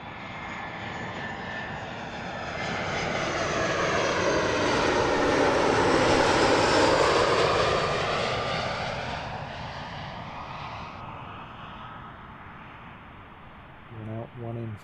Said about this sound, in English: This is one of their A320-200s, touching down from Innsbruck.